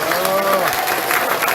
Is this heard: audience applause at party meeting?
yes